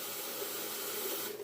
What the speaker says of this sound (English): I'm going to put a little hot water in there.